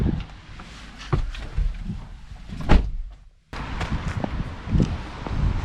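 A car door thuds shut with a sharp bang, amid rain and wind noise, followed by a brief muffled silence before the outdoor noise returns.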